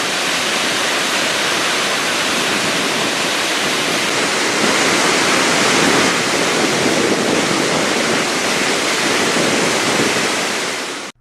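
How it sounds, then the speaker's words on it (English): A powerful Icelandic waterfall thundering through a barren landscape, a loud, unbroken roar of falling water that holds steady throughout, with no other sounds over it. "powerful falls thundering through a blasted landscape carved by huge outburst"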